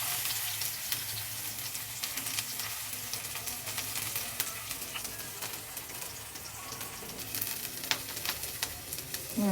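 Onions frying in hot oil in a pan, a steady close crackle and sizzle with scattered sharp pops running throughout, soft in level and with no talking.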